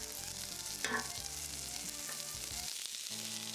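Chicken drumsticks frying on a Blackstone griddle, a continuous close crackling sizzle with one brief brighter spatter early on and a short dip before the frying resumes.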